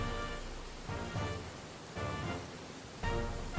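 Steady rain hiss from The Oregon Trail video game, with soft swelling gusts recurring about once a second, broad and continuous, heard alone without talk.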